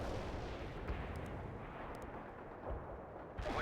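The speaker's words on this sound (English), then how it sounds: "Launching a barrage." An artillery barrage rumbles in the World in Conflict strategy game, with deep continuous booms rolling together into a heavy, loud wall of explosions and a fresh blast near the end.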